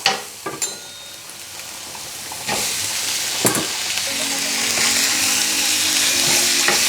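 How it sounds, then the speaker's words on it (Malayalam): Minced beef sizzling in a pan for spaghetti sauce, stirred with scraping strokes; a few clatters and taps give way to a broad, continuous frying hiss that grows louder toward the end. "ഇനി ഇതിലേക്ക് മിൻസ്ഡ് ബീഫ് ഇട്ട് കൊടുക്കാം"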